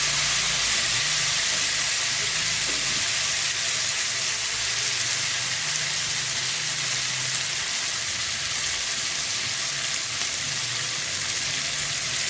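Masala for a gravy fries in a pan with a loud, continuous hiss and sizzle that holds steady throughout, close up and without talk.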